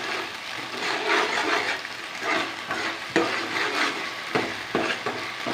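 Tomato, ginger and garlic paste sautéing in a pan for prawn gravy, a steady close sizzle and fry with intermittent stirring scrapes and clatters throughout, no talking.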